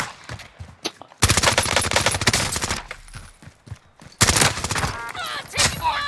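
Bursts of automatic gunfire in a multiplayer trios shooter match, two long loud rattling volleys separated by quieter scattered shots and thumps, with voices talking briefly between them.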